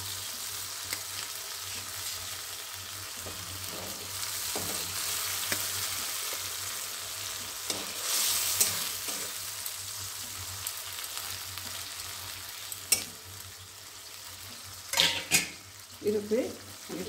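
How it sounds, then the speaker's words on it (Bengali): Fish slips into a pan of hot mustard water and fries, a continuous close sizzle with scattered stirring and utensil clinks, rising into a few louder spatters near the end. "এবার মাছটা দিয়ে দিচ্ছি।"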